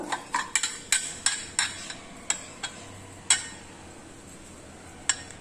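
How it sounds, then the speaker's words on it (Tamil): A metal idli plate being rinsed with oil in a home kitchen gives off a string of bright metallic clinks and taps, irregular and close, some louder than others over a faint background. "இட்லி தட்டில் எண்ணெய் ஊற்றி கழுவிக்கலாம்"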